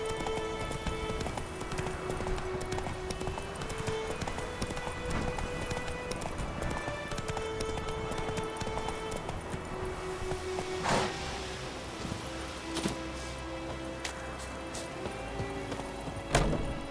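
Steady clip-clop of Roach, the horse in The Witcher 3, galloping continuously and fairly close, with game music and ambience underneath and a brief whinny-like burst near the end.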